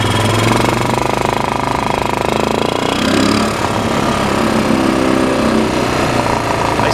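2000 Lakota ATV running on its first ride after a cold start, a loud, busy buzzing engine chatter that stays steady throughout with a slight change in load midway.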